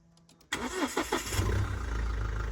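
A few faint clicks, then a Mahindra Scorpio S10 4WD's 2.2-litre SUV engine cranks and catches, settling into a steady low, heavy diesel-like idle.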